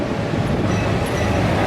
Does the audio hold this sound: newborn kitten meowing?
no